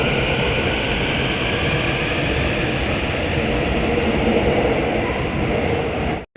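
A GTX-A train, set 35179, pulls into Taepyeong station with a loud, steady rumble and rail roar heard from on board, holding constant before cutting off abruptly at the end.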